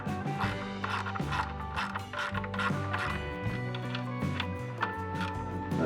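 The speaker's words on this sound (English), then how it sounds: "now we're moving back, tightening the middle ones, then we're gonna tighten these brackets" Bolts on a skid plate of a KTM 890 being tightened, a run of rhythmic ratcheting clicks and metallic mechanical turning, close and steady throughout.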